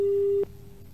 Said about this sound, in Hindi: लगता है बस आपका फोन डिस्कनेक्ट हुआ है